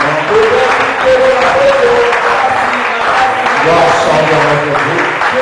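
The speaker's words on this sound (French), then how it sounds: "Acclamons très fort le Seigneur." A church congregation claps loudly and continuously, a dense wash of applause mixed with scattered voices and cheers that holds steady throughout.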